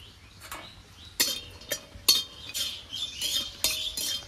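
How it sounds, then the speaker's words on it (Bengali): Broken cashew pieces dry-roast in a hot pan while a utensil stirs them, giving a series of sharp scraping clinks at irregular intervals over a quiet background. "কড়াইটা গরম হয়ে গেছে, কাজু বাদামগুলো ভেঙে নিয়েছি এবং শুকনো কাঠখোলায় আমি কাজু বাদামগুলো ভেজে নেব।"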